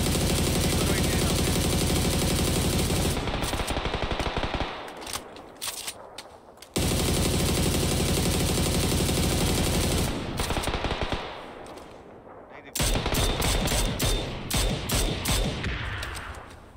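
Rapid bursts of automatic gunfire crackle in a video game shooter, loud and close, arriving in dense volleys broken by short pauses and fading tails, with a few scattered single shots near the end.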